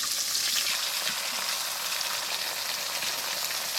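Fish frying in a pan over a fire outdoors, a steady, dense sizzle of hot oil that holds close and even throughout without pause.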